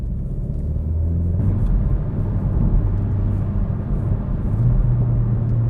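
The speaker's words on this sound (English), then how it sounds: "Now I'm in sport mode in a Megane RS 300." A Renault Megane RS 300 in sport mode is driven fast, its engine a steady, loud, low rumbling drone heard from inside the car with a slight rise partway through.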